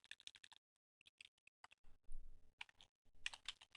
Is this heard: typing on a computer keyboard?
yes